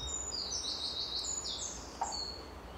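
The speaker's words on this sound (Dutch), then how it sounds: "heb je een heel actief vogeltje die graag op je schouder komt zitten" A small, very active pet bird in an animal shelter foyer chirps in quick high tweets and short trills over a quiet indoor background, with a soft tap near the end.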